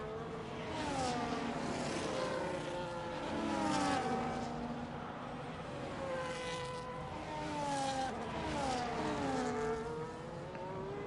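Ferrari and other race cars in a video game race at the Canada round drone and whine continuously, several engines overlapping with rising and falling pitch sweeps as they pass.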